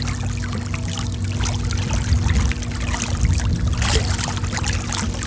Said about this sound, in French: Un petit coup de pelle pour se diriger